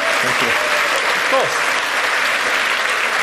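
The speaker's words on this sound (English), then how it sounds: "Round of applause, ladies and gentlemen." Applause from a live audience at a football club legends evening in Watford, a steady wash of clapping with a voice speaking briefly over it.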